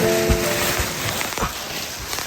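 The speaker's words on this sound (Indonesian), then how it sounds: "Di antara suara gemuruh petir yang jauh, suara hujan menciptakan irama sendiri" Steady rain on a mountain trail on Gunung Raung, an even hiss of falling water close around the listener with occasional soft drop impacts and low thumps, continuous throughout.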